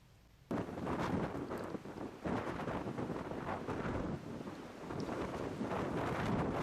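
Strong wind buffets the microphone on an open disc golf course in Wyoming, a loud continuous rushing roar with gusty surges that starts abruptly after a brief quiet moment, with no talk.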